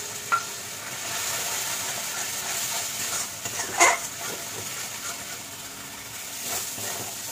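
Spice paste with cashew and poppy seed paste sizzles in a pan as it is stirred and sautéed for shahi paneer masala, a steady hiss with scraping stirs and one louder clatter midway.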